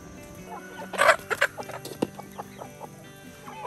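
Chickens cluck in short, scattered bursts, a few louder calls near the start, over a quiet farmyard background with no talking.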